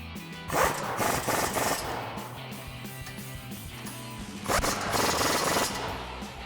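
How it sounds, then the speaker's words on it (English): A 21mm socket on a ratchet tightens the brake caliper bolts on a 2009-2020 Ford F-150, producing two bursts of rapid ratcheting clicks over a steady background of nearby mechanical noise. "And then we'll grab our 21mm socket and tighten these down."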